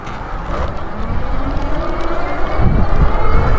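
A car driving alongside on the road, heard from an electric bike: a loud, steady rush of wind and tyre and engine noise building toward the end.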